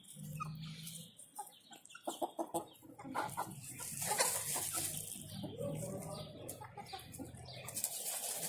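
A young rooster gives its first crow among farm chickens, a strained, wavering call in the middle of the clip, with nearby clucking, wing flapping and scratching before and after.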